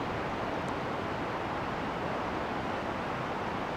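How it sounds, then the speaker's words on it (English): Ocean waves in the background of an outdoor yoga session, a continuous, even wash of surf noise with no distinct breaks, moderately loud and steady throughout. "maybe even notice the sounds of the ocean in the background"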